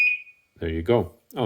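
A Dogtra 2700 T&B e-collar remote gives a single short, steady beep after being switched on, followed immediately by a person talking close by.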